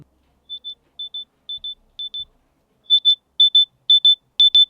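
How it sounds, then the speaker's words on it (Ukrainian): OPPO Enco X3i wireless earbuds emitting a locating signal: paired high electronic beeps repeating at a steady rhythm, starting softer and growing louder, clear and alone in silence. "знайти навушники через подачу звукового сигналу"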